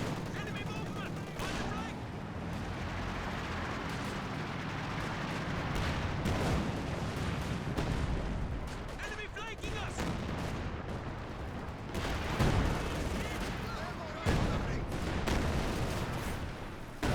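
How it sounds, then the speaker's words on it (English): In Company of Heroes 2, a Katusha rocket barrage rumbles in with dense, overlapping thuds and crackling blasts amid battle gunfire, while a commentator talks over the chaos. "Here comes the Katusha rocket barrage."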